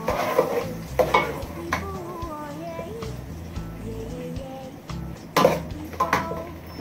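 Rice stirred in a pan with scraping utensil clatter and light sizzling, close by, while a person speaks over it.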